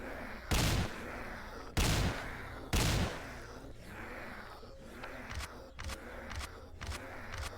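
Gunfire from a gun in the zombie video game The Wicked: three loud, sharp shots in slow succession, then a quicker run of lighter pops over a steady background rumble.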